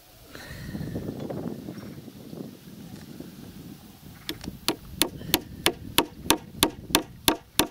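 Hammering nails into wooden pier boards over cold water: after some low rumbling and handling noise, about a dozen sharp, evenly spaced hammer blows ring out close by, steady and loud.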